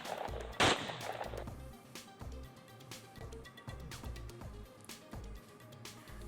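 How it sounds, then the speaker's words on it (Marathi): Gunshots fired into the air ring out as a long series of sharp cracks at fairly regular intervals, moderately distant, with one louder blast early on over a low rumble and no talk. "20 राऊंड हवेत केले फायर।"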